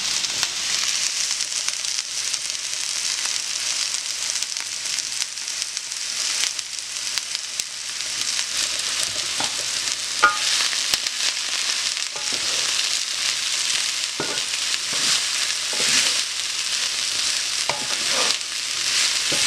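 Zucchini, yellow squash and chopped baby bella mushrooms fry in a pan with a steady, loud sizzle throughout, broken by occasional soft stirring scrapes and clicks.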